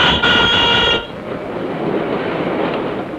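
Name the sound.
ride-on toy train running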